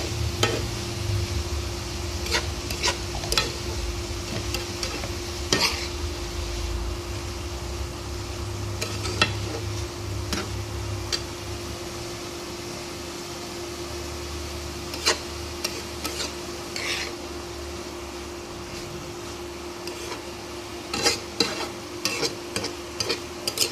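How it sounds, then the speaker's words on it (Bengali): Spinach and potato curry being stirred in a pan after salt and turmeric are added, with a steady low sizzle and scattered scrapes and taps of the spoon against the pot, close and alone. "এবার নেড়ে চেড়ে মিশিয়ে ঢাকা দিয়ে দেবো"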